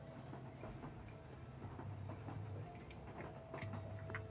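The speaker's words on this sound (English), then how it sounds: "is it blended in with the sounds of the train?" Train running on rails with a steady low rumble and faint intermittent clicks and squeals, continuous and moderately close throughout.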